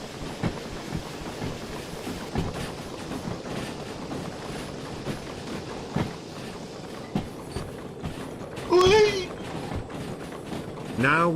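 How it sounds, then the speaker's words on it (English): A steam train rolls along with a steady, busy rumble and regular rhythmic clatter, close by, with a brief burst of louder hiss or squeal near the end; people talk at times over it. "Now we are on the steam train."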